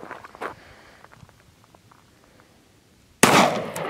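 A single loud gunshot from a 12-gauge shotgun fired outdoors at a can, a sharp blast near the end after a stretch of quiet rustling and faint footsteps.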